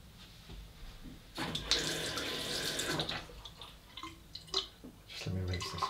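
Water runs from a tap while a vintage Sheffield straight razor is rinsed, a soft, splashing flow that rises and falls for a few seconds at close range.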